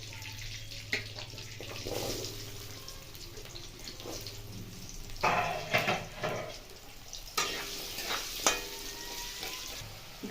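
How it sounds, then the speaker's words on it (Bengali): Carrots frying in oil in a pan: a continuous sizzle broken by several loud spatula scrapes and clatters, close up, with no clear talking. "এরপর গাজর ভেজে নেব।"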